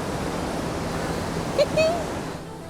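Dense, continuous roar of water from the 15-metre Slap Kozjak waterfall, steady broadband rush heard up close, with a brief voice near the end.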